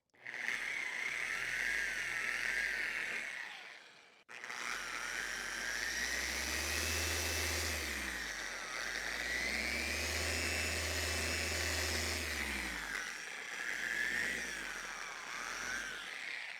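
A machine polisher buffs a scratched plastic tail light on a GMC Sierra Denali with correcting polish, a loud, close whirring motor whine that cuts out briefly and restarts, then shifts in pitch under load.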